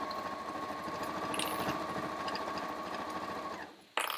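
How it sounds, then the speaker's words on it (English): A sewing machine runs a long, continuous line of stitching on fabric for a roll-up organiser, a close, steady mechanical whirr and rattle that slows and stops near the end before a brief clunk. "I'm going to sew all the way down to the bottom."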